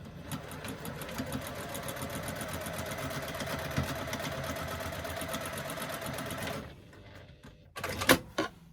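A sewing machine stitches a second securing line along a bag seam, a steady close whirring hum running for about six and a half seconds before stopping, followed by faint handling clicks and a brief sharp clatter.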